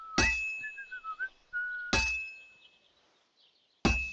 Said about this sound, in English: That's some nice whistling.